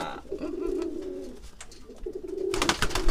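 Pigeons cooing close by in low, rolling phrases, two bouts separated by a pause, with faint background noise and a brief rustle near the end.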